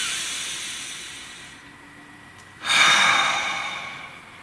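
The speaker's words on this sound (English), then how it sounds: "Nice deep breath." A deep breath taken close to the microphone: a slow, quiet inhale followed by a louder, breathy exhale that hisses and fades.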